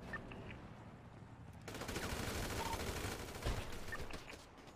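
Gunfire in GTA roleplay, a dense sustained burst building midway and holding loud for several seconds with one sharper crack, over a busy game soundscape.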